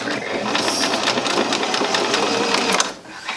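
A sewing machine stitches clothing in a loud, continuous rapid whir close by, stopping abruptly near the end.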